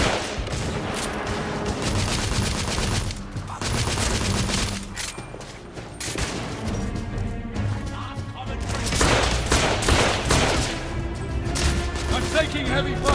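Heavy, sustained gunfire and scattered automatic bursts rage through a firefight in the video game The Order, loud and dense from start to finish, with a voice speaking over the shooting.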